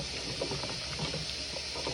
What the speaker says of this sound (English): I like to add more hot water as well to my dishwater